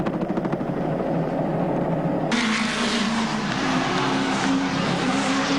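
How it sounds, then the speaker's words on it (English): A 1981 Chevrolet Camaro leads two Ford touring cars at Bathurst during the James Hardie 1000, their engines roaring loudly and steadily as the cars pass, with the sound swelling sharply partway through. "One Camaro, the pride of America's production cars, leads 2 Fords."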